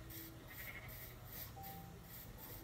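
Sheep bleat in the Minecraft video game, a few short calls over a steady, dense background of game ambience, heard with no talking.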